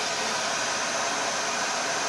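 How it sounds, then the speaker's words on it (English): A hair dryer runs on battery power through a 2000-watt pure sine wave inverter, drawing 155 watts, producing a steady, loud, close whooshing hiss of broadband air noise that holds constant throughout with no talking. "the hair dryer is putting out 155 watts"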